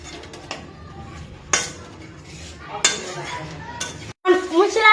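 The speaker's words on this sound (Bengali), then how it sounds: "এবার মশলাটা কষিয়ে নেব" Ground spice paste being fried and stirred in a pan, with scraping spoon strokes against the metal at intervals and a light sizzle, ending in a louder burst of frying.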